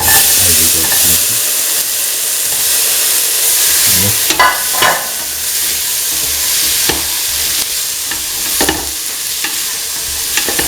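Ivy gourd pieces are stirred into a frying mung bean and coconut mixture: steady loud sizzling with repeated scraping strokes of a spoon against the pan, all close and with no talking.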